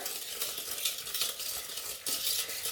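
A whisk scrapes and clicks against a bowl while blending egg into dry ingredients for homemade meatballs, quick uneven strokes with brief metallic taps, close and clear with no talking.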